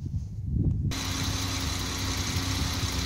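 A Jaguar XJ12 5.3-liter V12 engine idles steadily with a low, even rumble after a brief burst of noise at the start, close by and continuous with no talking.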